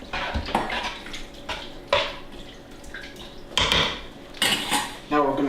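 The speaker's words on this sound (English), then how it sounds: "Add that into the dish, give it a little stir." A spoon stirs an Asian beef dish with mandarin oranges in a crock pot, giving several clattering scrapes and knocks against the pot with some liquid slosh, close and fairly loud.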